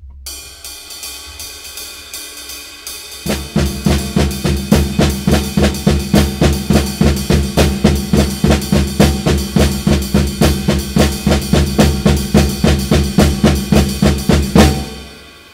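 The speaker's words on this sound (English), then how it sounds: "Is this comping rhythm of half note quintuplets against the rod cymbal" A drum kit plays a comping rhythm of half-note quintuplets against a steady ride cymbal, loud and close, with evenly spaced accented hits pulsing through the bar for about twelve seconds after a quieter opening, then cutting off.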